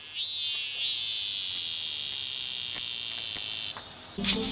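A cicada gives a loud, continuous high-pitched drone that holds steady for several seconds before breaking off abruptly near the end.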